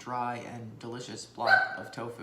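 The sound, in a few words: dog barking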